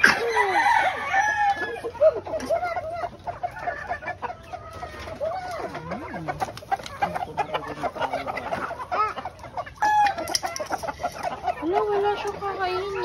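Chickens cluck and roosters crow repeatedly at an overnight stay in Antipolo, the calls rising and falling close by while people talk in the background.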